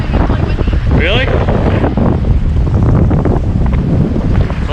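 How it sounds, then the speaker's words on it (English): Strong wind in the Narrows canyon at Zion National Park, Utah, buffets the microphone in heavy low rumbling gusts, with a brief high whistling sound early on and possible voices underneath. "Well, it's windy."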